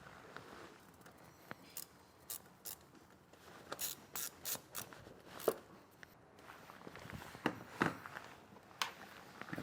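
Ratchet clicking in quick irregular bursts while a battery terminal nut is worked on a 2018 Toyota Hilux during a brake controller install, with a few louder clicks toward the end and no talking.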